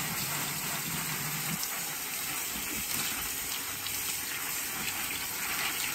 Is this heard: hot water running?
yes